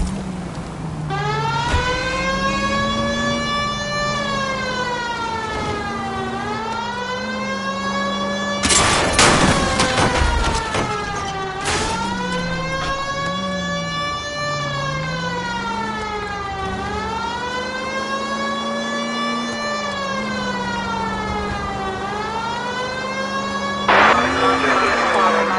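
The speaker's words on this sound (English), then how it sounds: "I think we need a siren." A loud electronic police siren in the video game L.A. Noire wails continuously, sweeping up and down in repeated cycles, with bursts of rapid gunfire breaking in twice.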